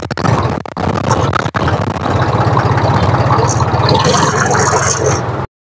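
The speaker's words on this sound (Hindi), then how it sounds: "अब अगले खुद में जो है ट्रैक्टर चलने वाला है" A tractor engine pulling a homemade sugarcane sowing machine runs loud and close in a steady idling rumble with some scraping, broken by two brief dropouts before cutting off abruptly.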